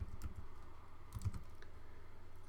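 A few brief, light computer keyboard keystrokes in two small bursts, fairly quiet and close, with no voices.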